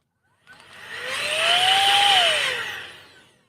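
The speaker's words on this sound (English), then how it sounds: "this is a battery-powered, charges off of USB blower." A small battery-powered, USB-charged air blower spins up from silence into a rising high whir, holds a steady buzzing whine, then winds down smoothly over a few seconds, close and alone.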